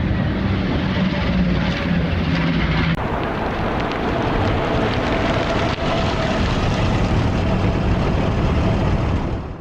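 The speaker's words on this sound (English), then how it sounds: "as an aircraft flies past." A fixed-wing aircraft flies past at an air show, a loud, steady engine roar that fills the whole stretch with broad rumbling noise and holds near-constant before easing off at the very end.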